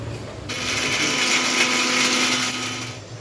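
An electric kitchen mixer grinding a spice paste for amti, a loud steady whirring drone that starts abruptly, holds for about two and a half seconds, then winds down, close and alone.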